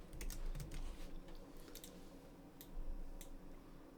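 Fingers type on a computer keyboard while working in Maya, a string of soft, close key clicks in short irregular bursts over a quiet room hum.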